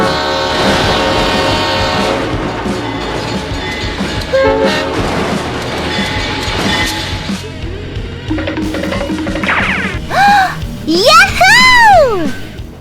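Video-game train passing in BeamNG.Drive, a loud rumbling rush of rail noise with a horn blaring near the end. Excited voices shout throughout.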